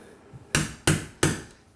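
A chisel is struck three times while trimming a door frame, each a sharp, loud wooden knock about a third of a second apart, close by and with no voices, after a faint softer tap.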